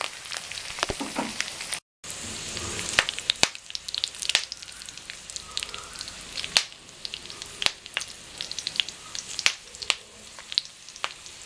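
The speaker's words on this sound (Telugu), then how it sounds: "పుట్నాల పప్పు, పల్లీలు వేసుకొని కాస్త వేగనివ్వాలి" Roasted gram dal and peanuts fry in a pan for a savoury flattened-rice snack, giving a steady sizzle broken by sharp, scattered crackles and pops at close range, with no talking.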